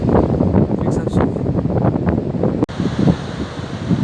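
Strong wind gusting along a seaside boardwalk on the Île de Ré on an early morning, loud continuous buffeting roar against the microphone with a brief dropout, surf and rustle mixed in.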